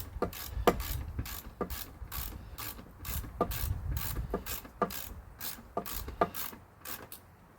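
A socket ratchet clicks in quick bursts of pawl ticks while loosening a bolt on a Husqvarna HU800AWD mower, the sharp clicks repeating in uneven runs close to the microphone with no talking.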